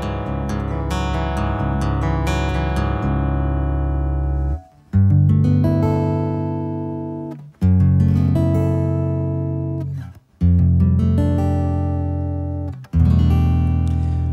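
Takamine acoustic guitar played through its Cool Tube preamp, strummed chords ringing out full and rich, with a quick flurry of strums followed by several big, sustained chord hits.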